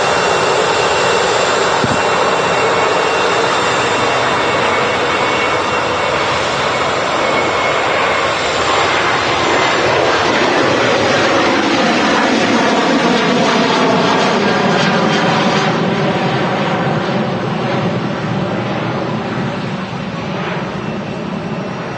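A Dutch Pride jet takes off from Manchester runway 23 right bound for Schiphol, a loud jet-engine roar that builds and then sweeps into a fading whine as it climbs away, with no talk over it.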